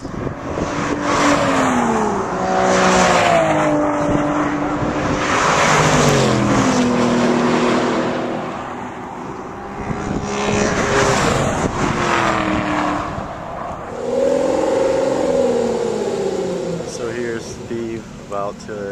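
An Aston Martin sports car drives laps of the Willow Springs race track during an instructional track day, its engine loud and close, revving up and down through repeated gear changes, with people talking now and then.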